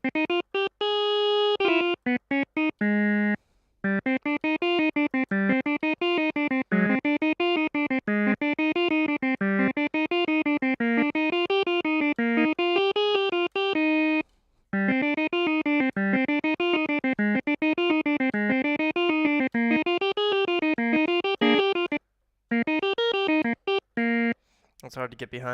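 A cheap organ synthesizer patch with a chiptune, video-game character plays a bright, buzzy, continuous run of rapid notes, loud and up close, broken by a few short pauses.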